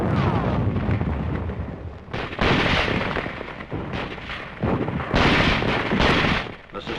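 Sustained gunfire and artillery-like bursts from WWII combat in a wooded area, a dense, loud, continuous barrage with repeated heavy surges and crackling shots throughout.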